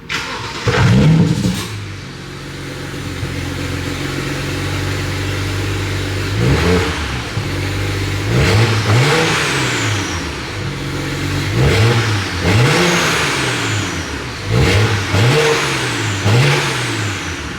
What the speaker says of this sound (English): So that's what the car sounds like with the stock exhaust.